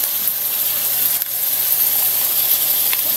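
Garlic, onion and liver frying together in a pan, a loud, dense, continuous sizzle with a bright hiss that never lets up, broken only by a faint stir or tap partway through.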